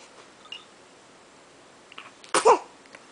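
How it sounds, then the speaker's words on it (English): A baby gives a single sharp, close sneeze after a brief quiet stretch, with a few faint rustles around it. "Bless you. Sneezing,"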